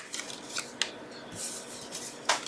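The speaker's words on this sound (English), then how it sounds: "you're going to see I'm going to cut again" Scissors snip through card paper during card making, with a series of short, crisp cutting strokes at an uneven pace, close and fairly quiet, with no voices.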